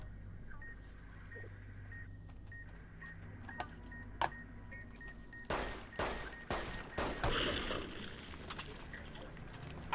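Gunfire in Fallout New Vegas, aimed at a sign: a burst of sharp cracking shots comes after a quieter stretch of tonal game sounds and faint talk, the rapid reports clustered near the end.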